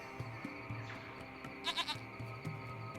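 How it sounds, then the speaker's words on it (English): A small goat bleats in the video game Lost Horizon while hiding under a hut. One short, wavering bleat sounds midway, over a steady low musical and ambient background. "It's a small goat."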